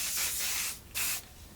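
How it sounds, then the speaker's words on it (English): A handheld spray bottle misting water onto hair during a haircut, two quick hissing bursts close by, the second short and sharp after a brief pause. "Spray it down a little bit."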